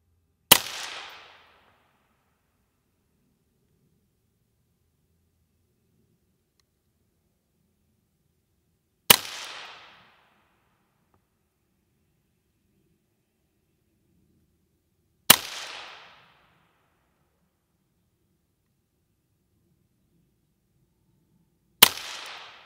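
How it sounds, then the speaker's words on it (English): A Volquartsen VT2 rifle shooting 17 HMR rimfire from a Caldwell lead sled gives four crisp, sharp single shots spaced several seconds apart, each with a quick fading tail and quiet between. "You guys give me a hard time about shooting this Caldwell lead sled with rimfire."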